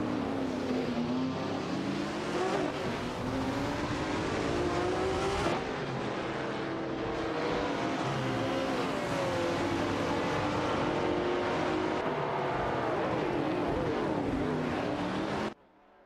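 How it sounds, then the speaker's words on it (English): Simulated race cars from an AI racing game, among them a 2000 Nissan Skyline GTR and a Holden Torana, roar continuously with rising and falling engine pitch through gear changes, loud and steady throughout with no voices. "with Virtual Speed DV and Emilia Rocanera in a Nissan Skyline 2000 GTR"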